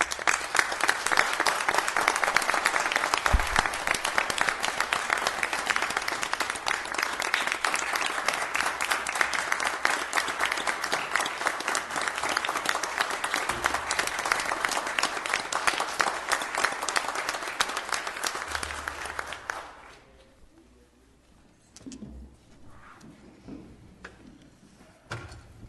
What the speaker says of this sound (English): I'd like to ask everyone to join me in offering them a round of applause